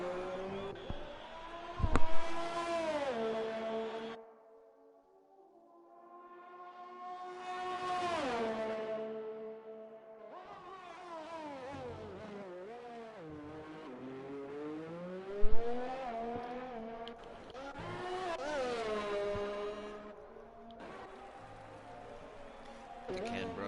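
A Red Bull F1 car in a racing game laps the Austrian Grand Prix circuit. Its high-pitched engine whine climbs and drops through repeated gear changes and passes, with commentators talking over it.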